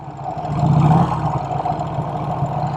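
A Vincent Rapide motorcycle engine runs in first gear with a close, throbbing low-pitched note that swells briefly, then settles into a steady loping rumble.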